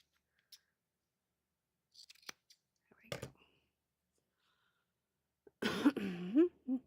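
Scissors cutting paper for a handmade journal cover, a few sharp snips close by, with a cough or throat clearing and handling noise near the end.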